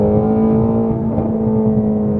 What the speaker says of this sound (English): With this car being a track car, it's meant to rev high, stay up there